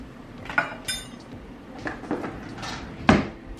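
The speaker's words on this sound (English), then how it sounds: "Now I also have a jar of these jalapenos, and I'm going to add in a tablespoon or two of those." Jalapeños spooned from a jar into an Instant Pot, heard as a few close clinks and taps of a spoon against glass and metal, spaced irregularly over quiet kitchen background.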